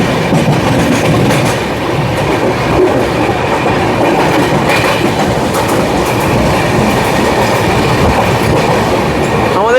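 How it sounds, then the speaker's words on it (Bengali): Humsafar Express running on the rails between Sealdah and Jalpaiguri past Barrackpore station, a loud, steady rolling roar with rhythmic wheel clatter filling the whole stretch, no voices. "আমাদের ট্রেন এখন ক্রস করছে ব্যারাকপুর স্টেশন।"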